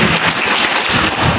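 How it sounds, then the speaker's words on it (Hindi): An audience at a journalists' conference in Rewa claps loudly and steadily in a dense burst of applause to welcome guests. "तीनों जन का एक बार जोरदार तालियां बजा के सभी का स्वागत कर दें"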